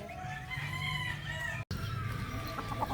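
Roosters of a hardy fighting type crow on a farm with grass pens, drawn-out calls overlapping against a busy background of clucking fowl, briefly cut to silence midway.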